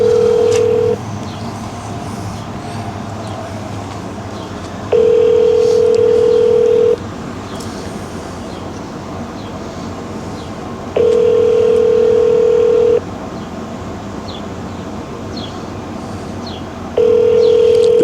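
A telephone call rings out unanswered, with a steady ringback tone sounding in repeated two-second bursts separated by longer pauses, loud and clear over a faint background hiss.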